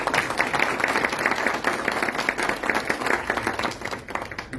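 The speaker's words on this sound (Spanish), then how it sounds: "para quienes pido un fuerte aplauso" Audience at a judicial oratory contest gives a strong round of applause for the jury members, dense continuous clapping held at an even level from start to finish.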